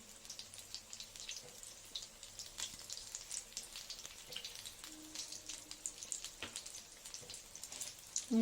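Soybean chunks fry in hot oil with a faint, steady crackling sizzle and scattered small pops, continuous throughout with no voices.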